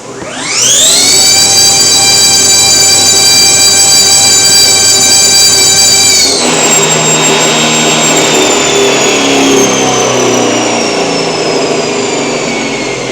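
High-powered electric motor running at high phase current whines as it spins up, the rising tone climbing steeply and then leveling off near a ceiling, loud and steady with no voices.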